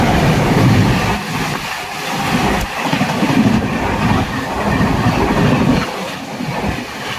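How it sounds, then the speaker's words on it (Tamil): A Shatabdi Express rolls past on the railway line with a loud, continuous rumble and a rhythmic clickety-clack of wheels over rail joints, heard close and steady throughout. "அந்த பக்கம் ட்ரெயின் பாஸ் ஆக போகுதுன்னு வருது பார்த்தீங்களா"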